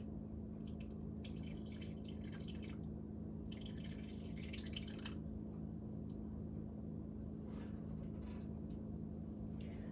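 Clabbered raw milk curds poured into a strainer for cottage cheese, with soft wet splashing and dripping in bursts over a steady low background hum.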